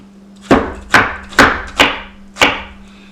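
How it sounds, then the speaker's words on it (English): A kitchen knife slices a small onion for a Cajun stir fry, five crisp, even chops landing on a cutting board at a steady pace, close and clear over a faint steady hum. "I'm going to slice a little onion."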